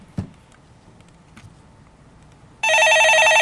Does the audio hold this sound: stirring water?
no